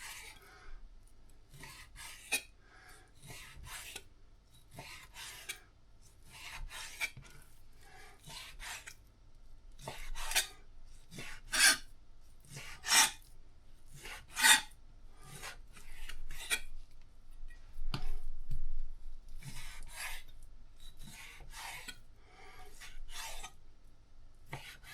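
A knife cuts raw meat into cubes for slow-cooker chili, giving repeated short rasping strokes in an uneven rhythm, close and moderately loud, with no one talking.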